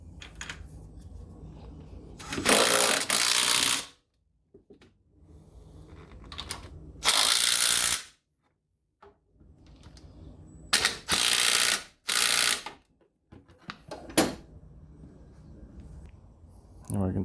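A ratchet clicks in quick bursts while engine mount bolts are tightened on a Toyonda engine mount kit install, with pauses between runs and someone talking throughout.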